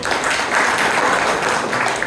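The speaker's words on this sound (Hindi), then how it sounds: "दोबारा से ताली भी बजा" An audience at an Indian business networking talk claps hands in a dense, loud, continuous wash of applause that holds steady for two seconds without a break.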